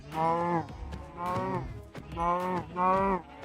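Cows mooing in Minecraft, four drawn-out lowing calls in quick succession, loud and close with no talk over them.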